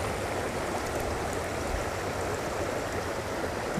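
A stream runs steadily in November, a constant broad rushing and gurgling of water, moderately loud and uninterrupted, with no voices.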